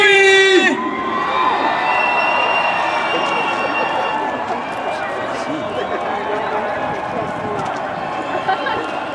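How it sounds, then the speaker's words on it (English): A large crowd at a Marine Corps recruit graduation at MCRD cheers, whoops and shouts loudly and steadily, with one sustained roar after a brief opening tone. "Make some noise for Platoon 2123!"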